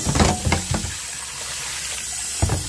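Water runs from a kitchen tap in a steady hiss after a few clattering knocks at the start, with another clunk near the end, while cooking eggs and biscuits.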